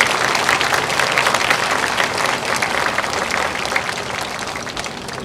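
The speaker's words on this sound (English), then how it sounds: "Let's give them a round of applause as well." Loud, sustained audience applause for the band boosters at an Honor America Night school band event, a thick continuous roar of many clapping hands that eases off only slightly over several seconds.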